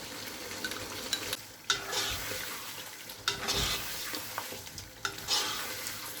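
Fried onion paste being added to a pot of Shahi chicken korma and stirred in, with a steady loud sizzle, scraping spoon strokes and bursts of spattering across several seconds.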